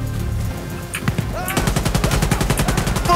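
Automatic gunfire in the video game Insurgency Sandstorm, a few scattered shots that break into a loud, rapid, sustained burst of closely spaced rounds.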